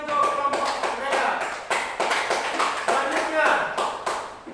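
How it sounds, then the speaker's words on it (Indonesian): A group of schoolchildren in a classroom claps for a student group, uneven bursts of hand claps rising and falling, with some voices mixed in. "Tepuk tangan untuk kelompok mereka"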